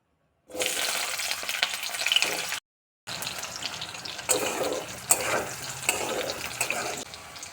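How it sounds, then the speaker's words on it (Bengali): Banana pieces fry in mustard oil with a loud, hissing sizzle that breaks off briefly, then resumes with surging bursts of bubbling. "কলা ভাজা হয়ে গেছে, কলা তুলে নেব।"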